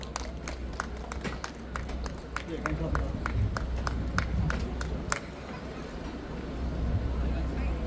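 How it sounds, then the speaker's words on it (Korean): An outdoor rally crowd in Yeouido gives welcoming applause for a guest speaker. Scattered sharp claps ring out over a busy background of murmuring voices and rumbling noise, then the clapping thins out and fades. "환영의 응원의 박수 좀 부탁드릴게요"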